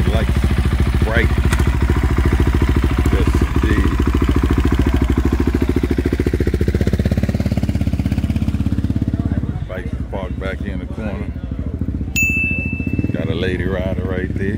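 Motorcycles idle and rev at a Hooters bike night in Seven Cities, with a loud, steady engine rumble that drops away near the end. Someone talks over it.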